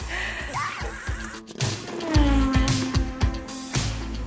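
A loud, close horse whinny plays as a sound effect, with its trembling call sliding down in pitch over a few seconds.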